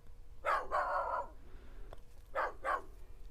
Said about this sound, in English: So from this barking dog, I just need a couple of barks.